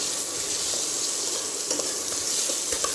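Coconut and spices sizzle and crackle in a hot pan while being stirred for mutton bowel gravy, a steady close frying hiss with occasional scraping.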